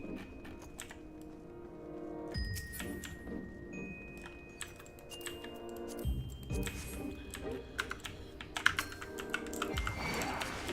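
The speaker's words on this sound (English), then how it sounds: "I thought my hand was on a certain part of my keyboard there, and it wasn't, so I clicked like 4 different buttons" Computer keyboard keys click quietly during a Final Fantasy XIV paladin tanking run in the Lost City of Amdapor, with a scatter of soft taps under steady game music and no talking.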